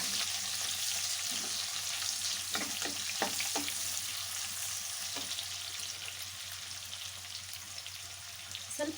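Chopped onion frying in oil in a kadai with curry leaves, a soft continuous sizzle with occasional sharper crackles and light stirring clicks, fairly quiet and steady.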